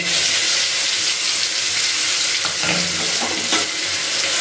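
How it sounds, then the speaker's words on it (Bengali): Garlic, onion and green chilli paste frying in hot oil with a loud, constant sizzle, interrupted by a few scraping stirs of a spoon close by. "দিয়ে খুব ভালো করে কিন্তু এটাকে ভাজা ভাজা করে নিতে হবে।"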